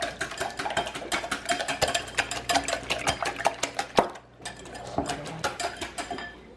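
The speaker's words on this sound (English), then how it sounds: "I'm gonna whisk all this up until everything's broken up and mixed" Eggs whisked with salt in a bowl for French toast, a quick run of close metallic clinks and taps against the dish, steady and busy, with a brief pause partway through.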